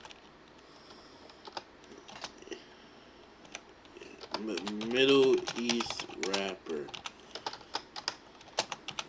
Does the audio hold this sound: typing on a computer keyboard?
yes